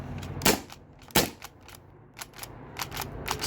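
A modified T4E HDB68 airgun running on an HPA tank is dry-fired, giving two loud, sharp snaps followed by several lighter, quicker clicks, close and with no voices.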